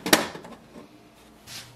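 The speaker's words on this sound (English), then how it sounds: "Now close the ink chamber door." The ink chamber door of an HP DeskJet 2742e printer closes with one sharp plastic clack, followed by a few faint rattles and a soft shuffle, heard close and without talk.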